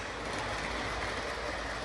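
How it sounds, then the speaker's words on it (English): A battery-powered O gauge coarse scale MTH Dash 8 toy locomotive runs along its track with a steady, dense rolling whir and rattle, close and continuous, with no voices. "So that's the 3rd locomotive I have in O-gauge coarse scale toy trains that is on battery power"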